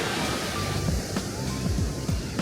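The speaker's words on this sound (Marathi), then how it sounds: "जोरदार वाहत आहे पाणी" Water rushes loudly and continuously after fresh rain near Tatopani border village on the Kailash route, a dense, roaring wash of noise like a swollen stream, with no voices.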